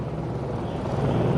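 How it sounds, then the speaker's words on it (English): A helicopter overhead on a Los Angeles street at night under curfew, its steady churning rotor drone loud and continuous, with no voices. "Helicopter."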